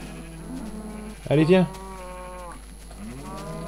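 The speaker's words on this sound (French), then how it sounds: "Je vais faire passer une ou deux vaches." A cow mooing in the Minecraft video game gives one short, loud, tonal call partway through, while someone speaks briefly in French around it.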